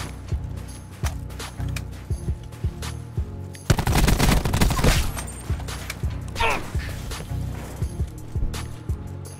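Gunfire rattles in a video game, with scattered single shots and short bursts giving way to a dense, louder volley of rapid fire midway, then returning to sporadic cracks.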